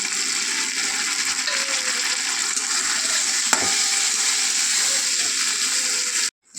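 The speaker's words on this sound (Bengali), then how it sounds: "মশলাটা ভাজা হয়ে গিয়েছে" Ginger-garlic paste frying with softened tomato in a pan for a pointed gourd and soybean curry: a loud, constant, close sizzle with occasional stirring scrapes and a brief clink, cutting off abruptly near the end, with no talk.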